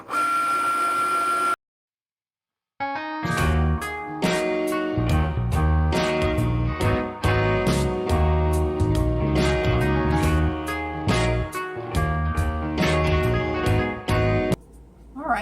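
Cricut cutting machine working through a sheet, its carriage producing a steady run of whirring motor sweeps and rapid clicking strokes, loud and close, broken by one short pause with no talking.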